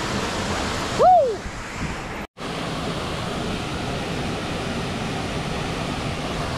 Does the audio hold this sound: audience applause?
no